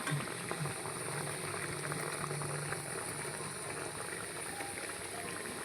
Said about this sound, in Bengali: এই যে তরকারিটা ফুটতে শুরু করেছে